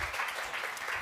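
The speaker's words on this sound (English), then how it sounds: "A round of applause for George." Audience applause at a public lecture event at a university, a brief steady wash of clapping with no break, fairly quiet and even throughout.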